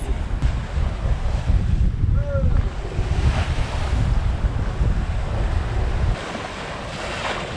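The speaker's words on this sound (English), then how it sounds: "The deck's got a little bit of a wash." Waves wash over the deck of the sailboat Cloudy Bay under way in choppy Bahamas water near Rudder Cay, loud rushing water and wind noise close by, easing a little toward the end.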